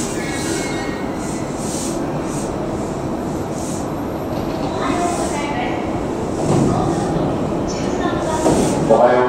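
A JR East E233 series 3000 Tokaido Line local train for Odawara arrives at Shinagawa station with rolling wheels and squealing brakes under a station announcement, the rumble rising as it slows near the platform.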